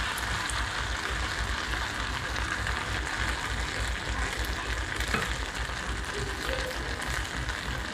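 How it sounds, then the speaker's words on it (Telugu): Rice vadas frying in oil over a low flame, giving a steady, even sizzle and crackle that stays loud and continuous throughout with no talk. "ఇలా లో ఫ్లేమ్లో పెట్టుకొని కాల్చుకోవాలండి."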